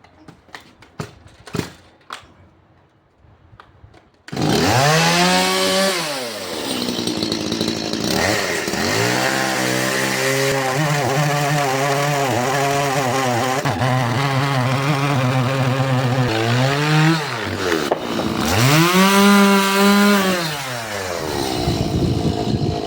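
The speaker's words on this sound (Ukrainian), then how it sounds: "У мене немає іншої пилки, лише електрична." After a few light knocks, an electric chainsaw whines loudly and bites into wood, pitch dipping and rising as it cuts, close and sustained.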